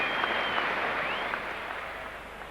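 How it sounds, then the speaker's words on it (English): Rugby league crowd at a 1982 Kangaroos tour match applauding Meninga's second try, a broad, steady wash of distant stadium clapping and cheering that holds evenly throughout with a slight fade near the end. "Applause for Meninga all around the"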